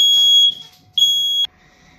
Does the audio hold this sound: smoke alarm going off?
yes